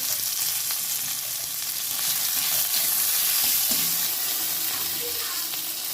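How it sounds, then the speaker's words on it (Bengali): Tomatoes frying in a little oil with a pinch of salt, a continuous bright close sizzle with soft stirring and scraping, no voices. "যে অল্প পরিমাণে তেল আছে এর মধ্যে আমি টমেটোগুলো ভেজে টমেটোর মধ্যে হালকা লবণ দিয়ে একটু ভেজে নেবেন"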